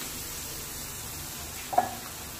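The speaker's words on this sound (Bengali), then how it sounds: "তাহলে ঠিক এভাবেই আমিও সব জিলেপিগুলো ভেজে" Jalebi frying in hot oil: a faint, steady sizzling hiss with one small pop near the end and no voices.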